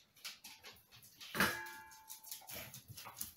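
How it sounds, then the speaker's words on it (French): A dog whimpers softly as it settles in beside someone unpacking budget makeup at home, thin high whines and light shuffling heard close. "monsieur le chien qui vient s'installer"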